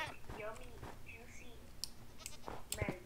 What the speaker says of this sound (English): Oh my god, it's mountain goats